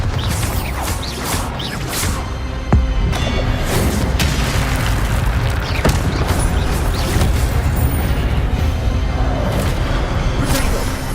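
Repeated booming spell explosions from Hogwarts Legacy, the Bombarda blast, with crashing impacts and whooshes layered over continuous dense game noise, loud and close throughout.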